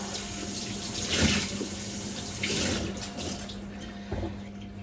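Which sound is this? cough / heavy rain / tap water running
tap water running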